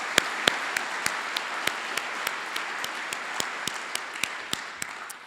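An audience applauding speakers at a technology day event, a dense steady wash of clapping with a few sharper individual claps standing out, gradually fading toward the end.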